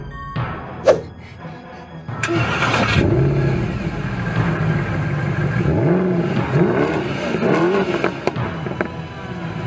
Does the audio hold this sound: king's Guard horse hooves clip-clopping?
no